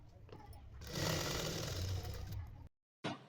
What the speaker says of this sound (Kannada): ನೋಡಿ ಈ ರೀತಿ ಡಬಲ್ ಫೋಲ್ಡಿಂಗ್ ಮಾಡ್ಕೊಂಡು ಎಡ್ಜಲ್ಲಿ ಸ್ಟಿಚ್ ಬೀಳ್ಬೇಕು.